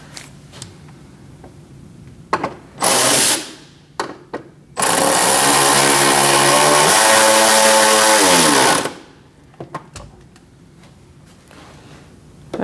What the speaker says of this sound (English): And tighten it down with your 10mm.